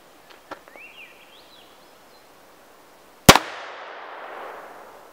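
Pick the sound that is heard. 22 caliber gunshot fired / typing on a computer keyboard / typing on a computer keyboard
22 caliber gunshot fired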